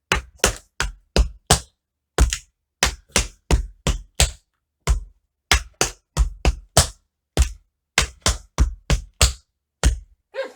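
Tap shoes run through fast riff footwork, scuffs and heel drops, in tight clusters of sharp, bright taps that repeat in steady groups across the whole stretch, loud and close with no talking.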